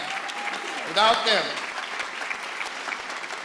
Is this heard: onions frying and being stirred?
no